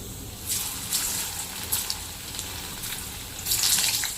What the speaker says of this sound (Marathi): आता मी या गरम तेलामध्ये उकडलेले बटाटे ते टाकणार आहे